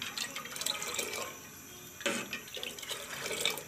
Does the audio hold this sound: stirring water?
yes